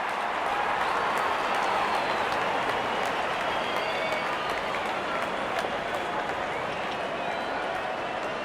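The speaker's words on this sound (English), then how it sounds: "Wonderful 50 and the crowd applauds." Stadium crowd applauding in a Pakistan versus India cricket video game, dense continuous clapping and cheering noise held steady throughout at a fairly loud, distant wash.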